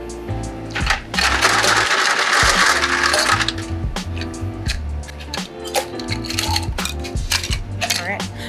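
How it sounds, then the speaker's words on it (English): Ice being dropped into an Irish coffee drink, with clattering, clinking cubes and rattling scoops in close, busy bursts throughout. "And then I'm going to add some ice."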